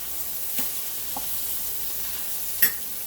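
Turkey burgers sizzle in a pan with a steady close frying hiss, a few soft scrapes and one sharper clink rising above it, no voices.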